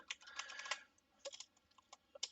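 Quiet computer keyboard typing during a Python programming lesson: irregular bursts of soft key clicks with short pauses between them, close and alone.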